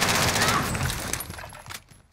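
Gunfire in the Warzone video game, a fast burst of several shots at the start that trails off and thins over about two seconds, with a few sharper reports later.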